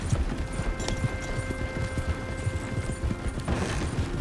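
Horse hooves clop steadily over a dense rumbling background in Red Dead Redemption II, a continuous trotting rhythm at moderate volume with faint mechanical tones mixed in.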